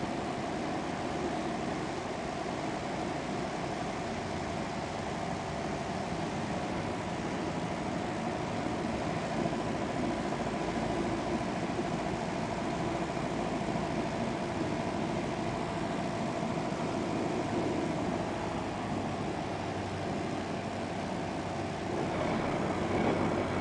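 An Onex light aircraft on final approach to land at about 80 mph, its engine a steady, unbroken drone that stays loud and even throughout with no voices.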